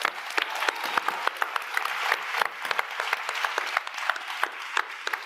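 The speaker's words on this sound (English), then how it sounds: "Give yourselves a round of applause." A hall full of people at the closing ceremony of the World Food Forum breaks into sustained applause, a dense, even wash of many hands clapping with sharper individual claps standing out throughout.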